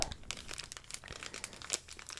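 A plastic wrapper on a marshmallow protein bar crinkles and tears close up, a quick run of sharp crackling rustles and rips at a quiet level with no talking.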